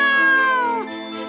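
A single drawn-out, tonal meow from a cat in an animated Room on the Broom bedtime story, clear and close, sliding downward and fading near the end.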